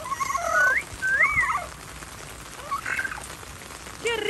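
Rain falling outdoors on a wet parrot, a soft steady patter underneath several high squawks and whistling cries from the bird.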